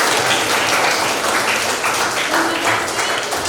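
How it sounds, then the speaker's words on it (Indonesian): An audience of junior high school students in a classroom applauding, a dense burst of clapping lasting several seconds, fairly loud and close. "Kita kasih aplaus dulu buat Niken"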